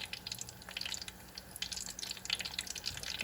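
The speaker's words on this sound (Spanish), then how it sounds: "Esperamos a que se fría bien." Plantain slices with the skin still on fry in hot oil, giving off quiet, irregular crackles and small pops that come in uneven bursts, with no talking.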